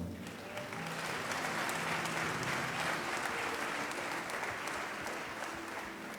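A church congregation applauds continuously to acclaim the Lord, a dense, steady wash of clapping that holds for several seconds with a faint low hum beneath.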